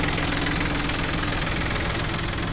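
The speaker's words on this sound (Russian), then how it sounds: "при нажатии буквально малейшем на газ, соответственно, мотор сразу же реагирует." A Hinomoto N239 four-wheel-drive mini tractor engine runs steadily near the microphone, a loud, continuous diesel knocking idle with a rough low-pitched throb and no voices.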